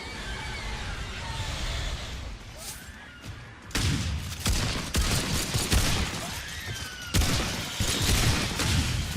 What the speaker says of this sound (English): I just gotta play my guitar gun while I reload a little bit.